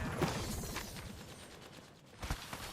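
A weapon reload in the Apex Legends video game: quick mechanical clicks and ratcheting, rattling metal parts in a short sequence, ending with a couple of sharper snaps, fairly quiet and heard alone.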